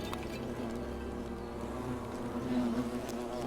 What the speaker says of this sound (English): Oh, I can hear the bees inside.